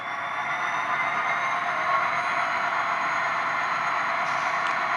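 ScaleTrains HO scale CSX SD40-3 model locomotive playing its onboard diesel sound, a steady, evenly held engine drone with a bright, tinny character, continuous and fairly quiet, no voices.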